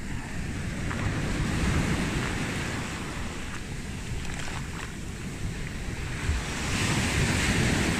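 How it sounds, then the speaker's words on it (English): Sea waves surge and break steadily on a beach in a continuous, loud wash of surf, with wind buffeting the microphone throughout and no voices. "Is that the sea?"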